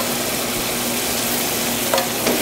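Marinara sauce with basil bubbles and sizzles loudly in a pan, a dense, continuous sauté hiss close up with a couple of faint stirring clicks.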